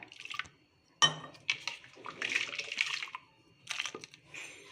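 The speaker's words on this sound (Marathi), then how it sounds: "थोडं यामध्ये पाणी टाकूया" Water splashes and trickles into a bowl of dosa batter with fresh green garlic in a few short pours, with a clink near the start and gurgling bursts.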